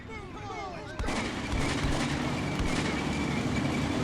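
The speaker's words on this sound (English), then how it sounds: "And it's now our turn to lob some artillery." Artillery fire in the video game Combat Mission: Beyond Overlord, a sudden loud blast breaking in after a faint whine, then a sustained rumbling barrage of booms and crackles that continues without pause.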